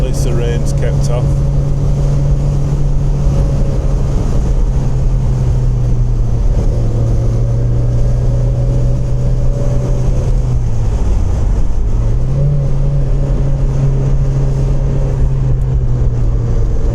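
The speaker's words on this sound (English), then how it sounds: "engine's had a good workout over the last couple of days." A car's engine drones steadily while driving across moorland roads, a loud continuous hum with a brief dip in pitch partway through as the revs change, heard from inside the vehicle.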